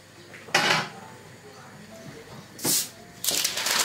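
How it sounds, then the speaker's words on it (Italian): A hot pot is lifted from the oven and its lid pulled off during bread making, giving a couple of loud metallic clanks and scrapes with quiet gaps between. "prendiamo la pentola dal forno, tolgo il coperchio"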